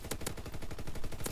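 Rapid bursts of LMG machine gun fire in a World War 2 video game, a loud, steady rattle of close shots running through the whole moment.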